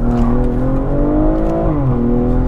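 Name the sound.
BMW M340 accelerating on the Autobahn in sport mode, automatic gear shifts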